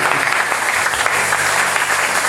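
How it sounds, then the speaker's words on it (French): A congregation applauds loudly during a sermon, a close, dense roll of many hands clapping continuously for a couple of seconds, with a low hum underneath. "Applaudissez."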